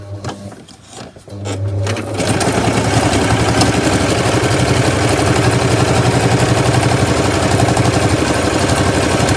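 After a couple of seconds of quiet handling, a sewing machine starts up and runs continuously, a loud, close, rapid mechanical stitching chatter that stays steady to the end.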